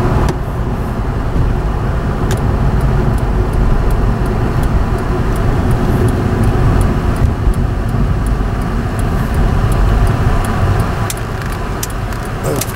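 A 2006 Acura TL accelerates hard on a short road test drive, its engine and road noise a loud, steady rumble heard from inside the cabin, sustained throughout with no talking.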